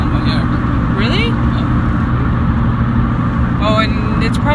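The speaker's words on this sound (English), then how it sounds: "This truck is pretty loud." A loud truck engine drones steadily while driving on a road in Mexico, a constant low rumble filling the cab, with voices talking over it now and then.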